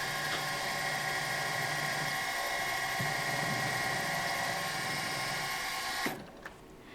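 A steady machine drone with a high whine runs throughout, a drill spinning and boring into wood and brass, then cuts off abruptly near the end.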